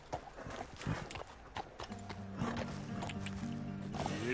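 Horse hooves clip-clop in the Red Dead Redemption 2 video game, a quiet run of uneven hoof beats followed by a soft whinny-like tone toward the end.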